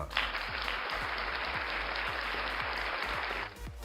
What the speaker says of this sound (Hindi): आप सभी के लिए खूब सारी तालियां